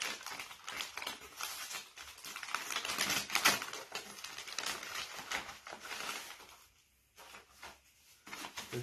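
Small online-ordered parcel of Formula 1 items being opened: close, busy rustling, tapping and crinkling of packaging, with brief pauses near the end.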